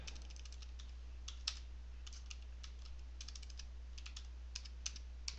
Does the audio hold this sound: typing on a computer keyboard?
yes